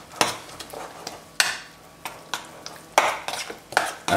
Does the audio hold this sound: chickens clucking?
no